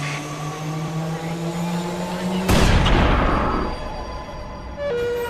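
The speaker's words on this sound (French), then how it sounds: "La balle tirée par le sniper met 1/10 de seconde pour parcourir 100 mètres et toucher sa cible." A single sharp, loud sniper rifle shot cracks out after a steady mechanical hum, followed by a long decaying rumble and then a tonal whine.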